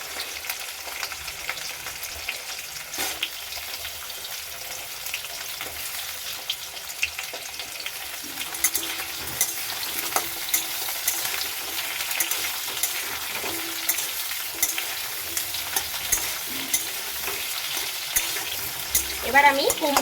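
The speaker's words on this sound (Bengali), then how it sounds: "আলুটা ভাজা হতে হতে বেগুনটাও দিয়ে দেবো এর মধ্যে।" Potatoes and eggplant fry in oil in a pan for a vegetarian pumpkin-greens chorchori, a steady broadband sizzle running throughout with occasional scrapes of stirring and a brief clatter near the end.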